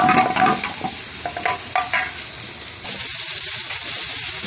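Vegetable oil and chopped garlic sizzling and crackling steadily in a pan in a British Indian restaurant kitchen, with some stirring and scraping early on, then a continuous hiss for the rest.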